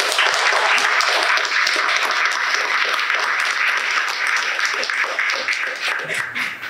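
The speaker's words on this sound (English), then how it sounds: "Round of applause for our speakers." A round of applause for the speakers at a press conference on homelessness and stable housing, dense sustained clapping from the audience that fades slightly toward the end.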